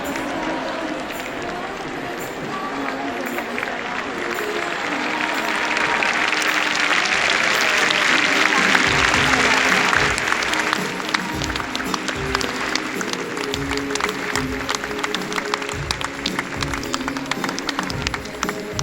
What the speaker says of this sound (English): We were all just standing up, just applauding and clapping and waving at each other